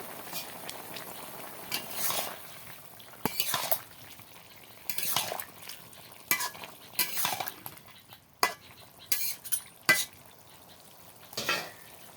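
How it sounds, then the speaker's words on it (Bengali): Curry frying in a pan as fish and tomatoes go in, with scattered bursts of stirring, clinking utensil scrapes and sharp knocks against the pot over a quiet low simmer, sounded close and intermittent. "এখন দিয়ে দেব মাছ, দিয়ে দিলাম টমেটো"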